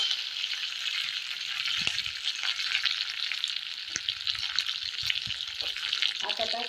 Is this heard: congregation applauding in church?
no